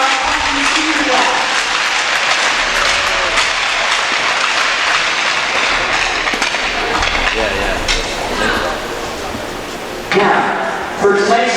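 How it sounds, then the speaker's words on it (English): Sustained applause from spectators at a men's college ice hockey game rolls on for several seconds, a thick crackling wash that swells briefly near the end as people keep clapping. "Please give one last round of applause for this year's 2020 Seahawks senior class."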